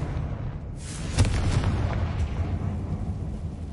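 A fiery Confringo spell blast in the Hogwarts Legacy video game goes off with a sharp, loud boom and then a deep rumbling roar that stays close and heavy for a few seconds; no talking.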